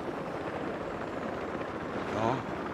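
A helicopter in the video game Battlefield 4 gives a steady, continuous rotor drone that fills the whole stretch at an even level, with a slight swell near the end.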